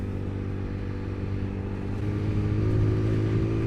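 A TVS Apache RTR 200 motorcycle engine revs up steadily, a loud, close, continuous droning hum that climbs slightly in pitch toward the end.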